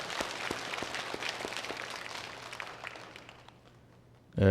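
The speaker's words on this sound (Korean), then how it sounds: "참석하시느라고 수고하신 분들 감사 박수" A church congregation at a Korean early-morning revival meeting gives a round of thanks applause, a close, steady patter of clapping that thins out and fades before a sudden loud sound at the end.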